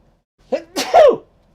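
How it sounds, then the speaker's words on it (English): A single person's sneeze, a short close-up inhaled build-up followed by a sharp, loud burst that trails off within about a second. "going to sneeze."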